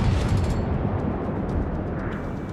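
Big warship guns fire in World of Warships, a dense, booming roar of blasts and rumble that stays loud throughout.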